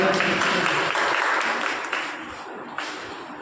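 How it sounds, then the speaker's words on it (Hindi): An audience applauds at a teachers' honour ceremony held by a Lions Club, a dense, steady clapping that stays strong and then thins out slightly toward the end. "जोरदार तालियों से स्वागत।"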